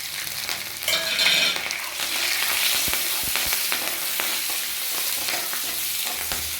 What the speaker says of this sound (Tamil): இப்போ கடுகு நல்லா வெடிச்சிருச்சு. இப்போ நம்ம தாளிக்கிற பொருள்லாம் சேர்த்துடலாம்.